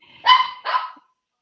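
A pet dog barks twice indoors on the East Coast, two sharp, fairly close barks in quick succession, then silence.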